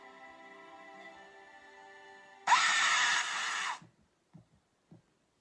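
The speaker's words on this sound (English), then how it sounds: "I guess he's disturbed by the scream" A sudden piercing scream from a screamer prank video bursts out loud for over a second after a tonal hum, then cuts off, followed by a few faint soft bumps.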